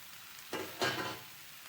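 Fresh ridge gourd pieces dropped into onions already frying brown in a pan, giving a faint low sizzle that swells briefly twice as the pieces land, with no voice.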